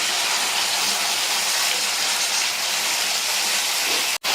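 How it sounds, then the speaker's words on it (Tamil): Tomato with ginger-garlic paste sautéing in a pan gives a loud, steady broadband sizzle and hiss that holds evenly throughout before cutting off abruptly near the end, with no voices. "தக்காளியை லைட்டா வதக்கிட்டு மூடி வச்சிருங்க"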